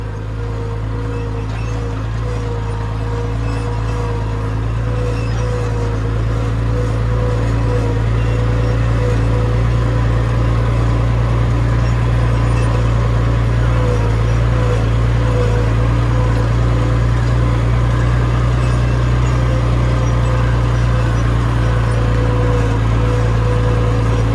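A tractor drives slowly in high range 1 ahead of a baler, its engine holding a steady, loud, even drone with no pauses throughout.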